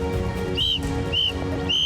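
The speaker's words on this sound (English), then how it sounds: "Periodically, he blew his whistle, trying to attract attention." Three short, high whistle blasts from a hiker signalling distress on a mountain, evenly spaced and sounding over a steady, dense background.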